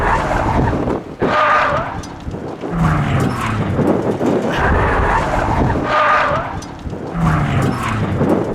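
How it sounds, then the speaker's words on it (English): An offroad-modified Mazda Miata drifts on pavement for the first time. The engine roars loudly and continuously, rising and falling, with surging tire squeals and wind buffeting, and no talk is heard. "First time ever drifting on pavement"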